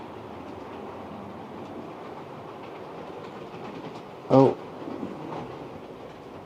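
A small model railway train runs along its track in a room, a low, steady rumble throughout, broken by a brief louder clatter and a short voiced exclamation.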